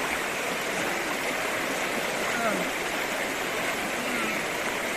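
Clear mountain stream water rushes steadily downhill, a continuous, close, even hiss of flowing water that stays constant throughout.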